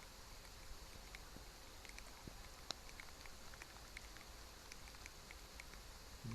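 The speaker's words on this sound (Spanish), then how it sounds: "se escucha la lluvia, como cae." Steady rain falls in an outdoor wetland, a soft continuous hiss with scattered drop ticks, faint and distant with no voices.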